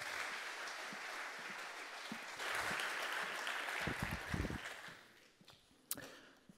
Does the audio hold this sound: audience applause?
yes